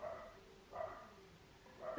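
A house dog barks as a postman passes outside, three separate barks spaced out over the moment, fairly faint and somewhat distant in a quiet room.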